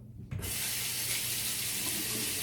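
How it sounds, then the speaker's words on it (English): A tap bursts on and runs in a steady, loud rush of water over a sink while a stainless steel safety razor is rinsed. "Let's wash that side of the razor."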